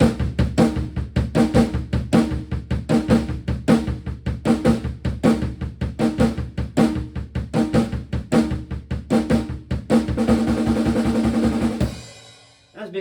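Drum kit groove for a song, with steady bass drum, snare and cymbal hits in a driving rhythm, close and loud, ending on a crash that rings out.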